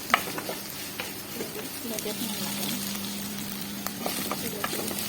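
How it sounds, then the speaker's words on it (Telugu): Prawns fry in a pan with a steady, close sizzle. Stirring and scraping sounds come now and then, and a person talks over the cooking. "రొయ్యలు రొయ్యలు అయితే అలా ఫ్రై ఫ్రై చేసేసాను"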